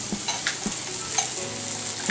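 Batter sizzling softly in a small sprayed frying pan, a steady low crackle with faint pops throughout, no voices.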